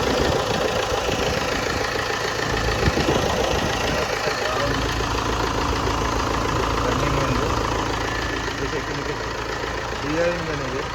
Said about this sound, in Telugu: ఓకే, చూడొచ్చు, డిఐ ఇంజన్ ఇది. బాగుంది ఇంజన్ అయితే.